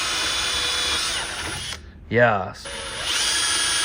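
A power drill whines steadily and loudly through a car hood and wood mount, stops briefly while a voice speaks, then resumes drilling close by.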